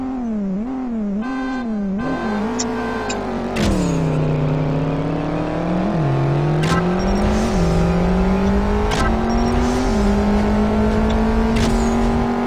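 A BMW M3 racing in the CSR Racing mobile game, its engine revving and climbing through repeated gear shifts, loud and close with sharp shift blips punctuating the steady drone.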